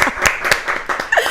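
Studio audience applauding to welcome a guest onto a talk show set, a brief burst of scattered clapping with a little laughter mixed in.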